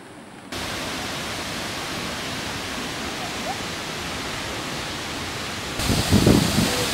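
Water rushes steadily and loudly at a waterfall in Costa Rica, a dense broadband roar that runs unbroken from start to finish, and faint voices briefly rise over it near the end.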